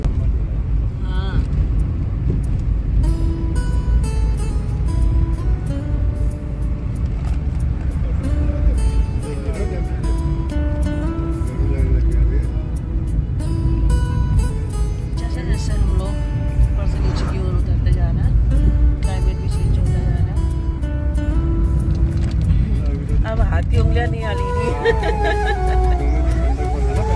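A car drives along a long road in Champawat, Uttarakhand, its low rumbling engine and road noise steady and loud throughout, with voices and background chatter mixed in.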